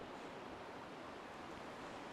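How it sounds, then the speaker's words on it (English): Rushing mountain river water in the Canadian Rockies, a steady broadband roar that holds constant throughout, close and fairly loud with no voices. "We're down by the rushing water."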